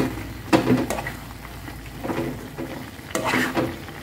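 Steamed glutinous rice being stirred as it cooks down in coconut milk, with several loud scraping strokes of a utensil in a pan between quieter simmering.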